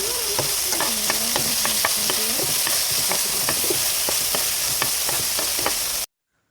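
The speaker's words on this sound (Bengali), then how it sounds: "দিয়া টমেটোটা সুন্দর করে আমি নাড়াচাড়া করে টমেটোও ভাজা নেবো।" Tomatoes fry in a pan and are stirred, making a loud continuous sizzle broken by repeated sharp scraping taps of the utensil against the pan, then stopping abruptly.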